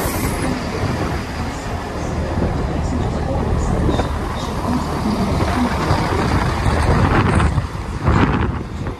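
A Transport for Wales Class 158 diesel unit, 158831, runs through Shrewsbury station, a steady close rumble of engine and wheels with wind buffeting the microphone and someone speaking over it.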